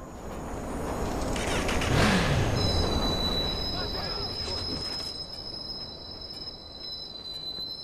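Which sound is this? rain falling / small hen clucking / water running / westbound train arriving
westbound train arriving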